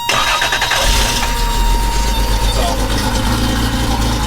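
A 1988 Toyota pickup fitted with a swapped 3.4 engine cranks and fires, then settles into a loud, close, steady running rumble.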